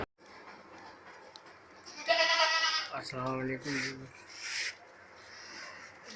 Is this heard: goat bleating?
yes